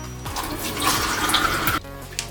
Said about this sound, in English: the next thing you want to do is fill the cups up with water